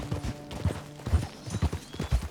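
Repeated hoof clops from a horse climbing a steep slope of uneven ground in the video game Red Dead Redemption 2, a steady plodding rhythm of thuds, fairly close, with no talking.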